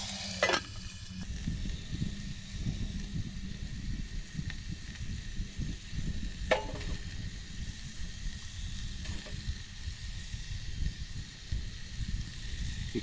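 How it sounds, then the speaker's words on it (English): Sausage sizzles steadily in a Firebox Box Pot, a continuous close crackling fry with occasional brief pops and clinks, heard alone without voices. "I'm gonna cook a little bit of sausage in here first"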